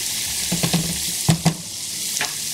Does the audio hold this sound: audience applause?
no